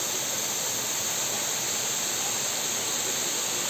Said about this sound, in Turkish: Mençuna Şelalesi